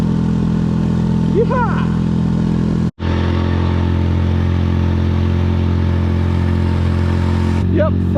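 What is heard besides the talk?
boat planing with 4 horsepower 4-stroke Parsun outboard engine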